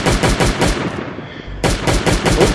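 Rapid bursts of automatic gunfire in the Last Day on Earth survival game as a turret is attacked, loud and continuous with a brief lull in the middle before the firing resumes.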